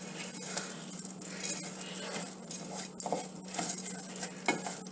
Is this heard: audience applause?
no